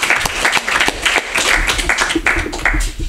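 Audience applause breaks out at a reading event, a dense, steady wash of many hands clapping that fills the whole stretch at close range, with no voices on top.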